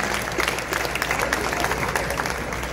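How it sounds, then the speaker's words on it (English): An audience at a Caribbean hotel and tourism association event claps steadily and loudly throughout, a dense, continuous wash of applause with no pauses. "give yourselves the largest round of applause"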